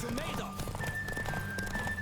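Horse hooves clip-clop at a steady gallop during a horse race in The Witcher 3, running under ongoing game music and voices, with a brief whinny.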